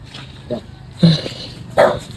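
A dog gives three short barks spaced about half a second apart, close by and moderately loud over faint background noise.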